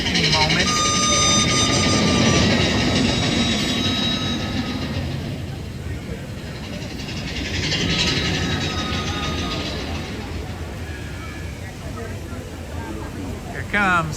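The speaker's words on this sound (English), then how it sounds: "We have a train going through here any moment." A Disneyland Railroad train rolls past at a theme park, a broad steady rumble with high squealing tones from the wheels, swelling twice, under crowd chatter and nearby voices.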